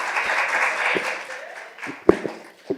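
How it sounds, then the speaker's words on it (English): A crowd at a youth gathering claps steadily, then the applause thins out into a few scattered, sharper claps near the end. "Please clap it up for him."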